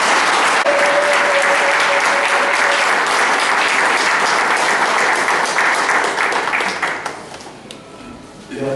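An assembly audience applauds at a closing session of the Alliance Barumbu Belgique agoras: loud, sustained clapping from a large crowd that holds steady, then thins and fades near the end.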